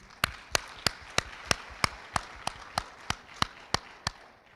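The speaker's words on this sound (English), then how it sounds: "Can we give ourselves a round of applause, please?" Sharp claps ring out in a slow, evenly spaced beat, about a dozen in all, from delegates at an ASEAN guidelines launch. The claps are faint and sound distant, with almost no voices under them.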